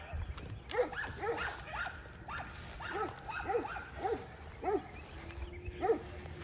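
Dogs bark while running outdoors, giving a string of short, evenly spaced barks at moderate distance over steady background noise.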